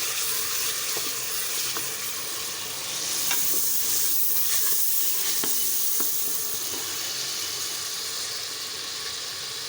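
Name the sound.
frying onions and spices for dal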